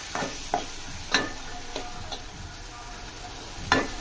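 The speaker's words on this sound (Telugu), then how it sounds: "బాగా మిక్స్ చేసుకోవాలా" A spoon stirs egg curry coated in turmeric and chili powder in a pan, several distinct clinks and scrapes spaced out over a soft, steady sizzle.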